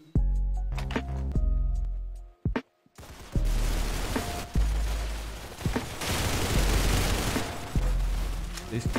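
Grease gun fire in a Roblox shooter: dense bursts of automatic gunfire fill most of the clip after a short pause, loud and close, with a voice talking in places.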